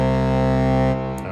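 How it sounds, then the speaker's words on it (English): A Sequential Pro 3 SE synthesizer holds a loud, buzzy sustained tone through a super plate reverb, then cuts off, leaving a short reverb tail. "Effect number 2 has the exact same effects types as effect 1 with the addition of a super plate mode, which is the only reverb on the Pro 3"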